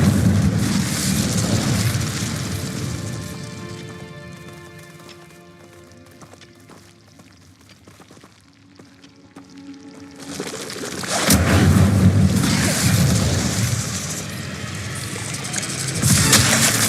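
Fire spell blasts in Hogwarts Legacy, loud roaring explosive bursts with rumbling combat noise that fade midway, then a heavy boom erupts again and keeps raging to the end, with no talking.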